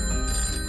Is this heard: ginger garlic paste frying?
no